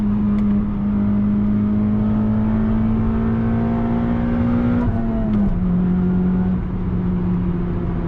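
A 2006 Acura TSX with manual gearbox and K24 engine drones steadily from inside the car, the engine note rising gradually under load, then dipping briefly at a gear change before settling into a steady hum again.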